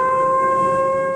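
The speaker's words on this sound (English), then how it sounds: "In Japan, the unmistakable sound of tsunami sirens started to blare." Tsunami warning sirens blare in Japan after an offshore earthquake, a loud, steady wailing tone sustained throughout without a break.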